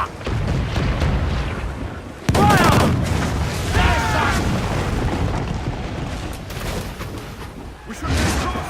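Ship cannons boom in a naval battle in Assassin's Creed Black Flag, a heavy blast landing over constant sea and battle noise while crew voices shout orders throughout.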